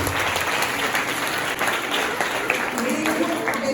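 A group of children at a church Bible camp claps together in a dense, sustained burst of applause, loud and continuous, with an adult voice talking over it.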